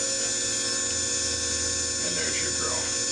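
A drill sharpening machine grinds a drill bit, a steady close whine with a constant machine drone and a faint rising scrape near the end.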